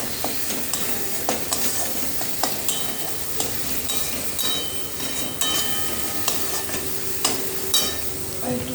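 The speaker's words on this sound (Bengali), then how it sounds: "কষিয়ে নেব এটা।" Pav bhaji is stir-fried with its spice mix in a pan, giving a continuous close sizzle broken by regular scraping and clattering strokes of the spoon, with no talking.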